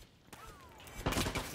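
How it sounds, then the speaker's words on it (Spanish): Gunfire in the shooter game Far Cry 6, a burst of sharp shots that lands suddenly after a quieter stretch, fairly loud, with a thin whistling tone just before it. "¿Quién me está disparando?"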